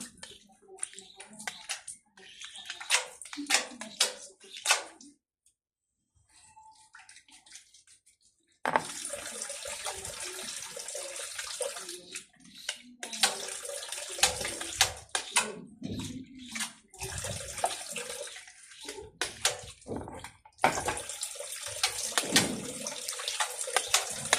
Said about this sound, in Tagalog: Itong sinabon natin dito, nagbuhusan natin ng tubig mga kaguro parang panlaw.